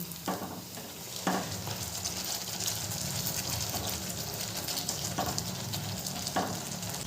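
Malpua pancakes frying in oil on a medium gas flame give a continuous close sizzle and bubbling, with several soft clatters as they are turned.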